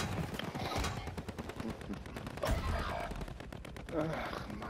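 Video game gunfire rattles in continuous rapid volleys with heavier thumping shots, while a voice talks over the shooting.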